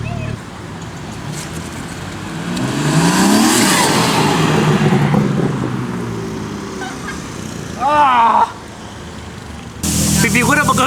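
A modified car engine with a 500+ horsepower performance upgrade and no exhaust fitted yet revs up loudly, rises and falls over several seconds, then a few sharp short revs, with voices talking nearby.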